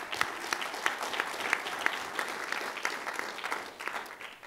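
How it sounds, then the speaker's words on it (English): An audience at a paleo health panel applauds with steady, close clapping that carries on for several seconds before tapering slightly. "Give a round of applause."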